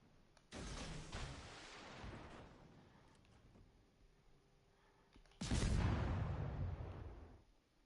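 Two heavy booming blasts of naval fire support artillery in the video game World of Warships Legends, each a loud sudden onset that rumbles and slowly fades, several seconds apart.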